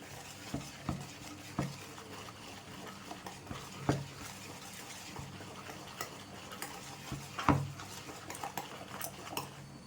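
Cupcake batter being mixed by hand in a bowl, with soft scraping and irregular knocks of a utensil against the bowl's side, a few louder clinks standing out, no voices.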